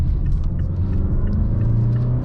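A 2020 Mazda CX-5 SUV takes a corner, its engine giving a steady low rumble over constant road noise, close and continuous, with no one talking.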